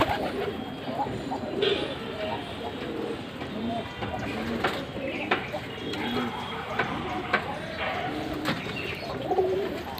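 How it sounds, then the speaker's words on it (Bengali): Pigeons of several domestic breeds, among them Shirazi, racers, Giribaz and Gobindo, coo repeatedly in a loft, a soft layered murmur of rolling calls running under a person talking. "আমার এখানে সব রকম কবুতর আছে"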